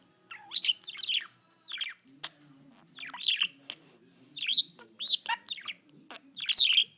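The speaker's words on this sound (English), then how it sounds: "That's some loud catty squawking." A bird gives repeated loud, sharp squawks and chirps in irregular bursts with short silences between, close by and alone.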